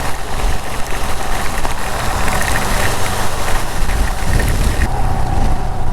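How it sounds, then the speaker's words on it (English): Heavy monsoon rain pours down during a ride on a Royal Enfield Himalayan BS6 motorcycle, a loud continuous roar of rain and engine noise that stays steady throughout, with no voices. "It just started raining heavily in just a second."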